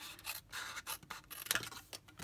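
Scissors cutting the flaps of a paper box for an Easter egg craft, a close, quiet series of rough snipping and rubbing strokes through card with short gaps between them.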